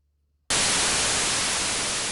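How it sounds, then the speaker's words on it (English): After half a second of near silence, a loud burst of harsh broadband static, from two pilots transmitting at once on a VHF aviation radio, cuts in abruptly and roars steadily to the end. "what does it sound like when two pilots transmit at the same time?"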